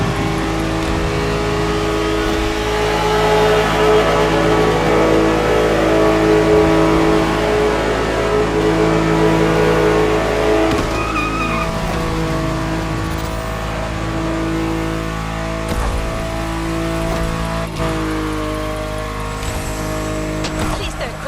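Car engine revving and roaring in The Crew Motorfest racing game, loud and sustained with rising and falling pitch through a big jump, tire noise underneath, and commentator voices talking over it.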